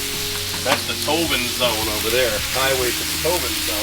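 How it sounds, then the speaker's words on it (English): Chicken stir fry searing on a Blackstone griddle, a steady close sizzle running throughout, with someone talking over it and some brief clatters. "Now this chicken, as you can see, that is searing up really quick."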